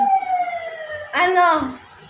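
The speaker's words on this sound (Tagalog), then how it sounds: "Pag narinig mo yung ambulansya, hindi ako yung sinusundo nila." An ambulance siren passes outside with clear wailing tones that slide downward in pitch across two sweeps. It is moderately loud, and a voice briefly overlaps the second sweep.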